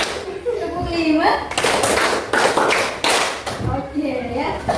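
Children clapping in rhythm in a classroom, a few sharp bursts of claps between spoken counting by a teacher, fairly close and loud.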